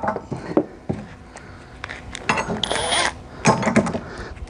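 A nut being tightened onto a bolt on an S4 auger, a run of small metallic clicks, scrapes and ratcheting turns heard close up, with irregular knocks between them.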